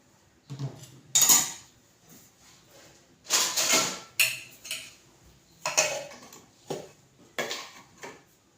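Dishes and metal utensils clatter and clink in a series of irregular bursts, with quiet pauses between handling sounds.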